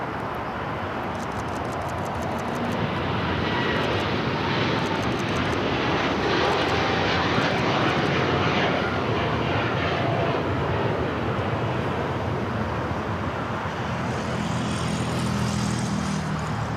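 A jet airliner landing on runway 25 left at LAX, a steady, broad roar of engine and rushing air that swells and holds throughout, heard from nearby with no talk.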